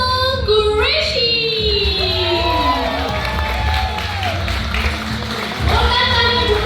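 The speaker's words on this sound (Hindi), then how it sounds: "please put your hands together for the one and only Faisal Qureshi" Crowd at a Calgary meet-and-greet clapping and cheering for a celebrity's arrival, with shouts and whoops, children's voices and background music mixed into the noisy hall.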